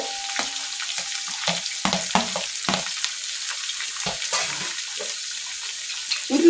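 Ginger, garlic and green chilli frying in a pan, giving a steady sizzle broken by repeated scraping stirs of a spatula, loud and close with no voices.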